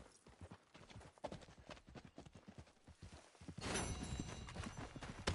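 Horse hooves clip-clopping at a walk in the video game Red Dead Redemption 2, an even, close rhythm of hoof falls that grows louder and busier toward the end.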